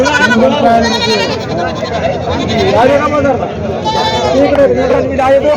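Goats bleat repeatedly at a busy livestock market in Vasmat, their cries rising over a dense crowd of people talking throughout.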